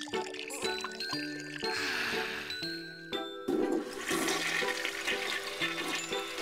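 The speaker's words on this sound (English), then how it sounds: "Flush the toilet." A toilet flushing with a loud, close rush of water that swells and churns, mixed with tinkling tones from a children's learning CD.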